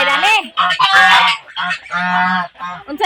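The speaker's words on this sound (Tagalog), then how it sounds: "Unsa na gansa?" Geese honk loudly and close by in a rural provincial setting, a run of repeated nasal calls with short gaps between them.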